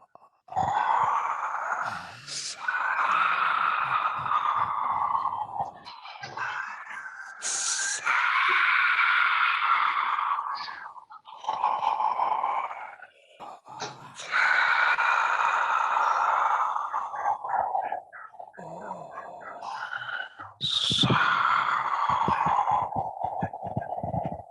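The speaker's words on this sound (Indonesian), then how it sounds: "Dari improvisasi bunyi napas, ya." A group improvises breathing sounds together in a theatre exercise: long voiced exhalations, groans and moan-like sighs swell and fade in overlapping waves, broken by sharp airy gasps and short pauses, fairly close and continuous.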